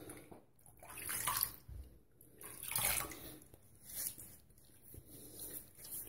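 Tap water runs while shaving lather is rinsed off after a vintage straight razor shave with ARKO soap, rising and falling in uneven splashing surges as hands move under the stream, with no voices.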